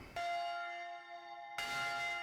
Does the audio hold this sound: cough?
no